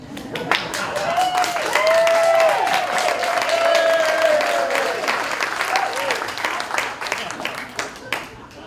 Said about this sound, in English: Thank you for that scattered applause.